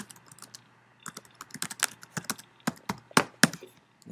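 Computer keyboard typing as text is entered into a document while installing fonts: irregular bursts of crisp key clicks, close and fairly loud, gaining pace after a quiet first second, with no voices.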